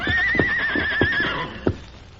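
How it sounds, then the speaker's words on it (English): A horse in an old Western radio drama whinnies in a long, wavering cry while its hooves paw the dirt in several dull thuds, with a last firm stamp after the neigh fades. "the great horse Silver whinnied and pawed the dirt."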